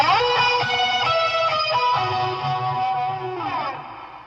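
A loud electric guitar, overdriven through King of Tone and S808 Tube Screamer pedals with amp gain, plays sustained chords, shimmering with chorus and trailing reverb, no voices.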